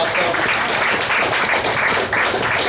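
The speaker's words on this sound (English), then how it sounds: "Let's give a warm round of applause to everybody who made this special." A gathering of supporters at Cinco De Mayo breaks into warm applause, a full, steady spread of many hands clapping that carries on without pause for the few seconds.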